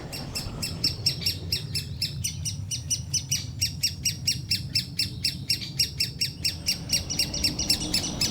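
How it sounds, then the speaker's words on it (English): A woodpecker nestling calls loudly and insistently, a rapid regular series of harsh squawking chirps repeating throughout, close by, with a low rumble underneath. "Greater spotted woodpecker nest. Looks as if there's only one young. It's really calling out"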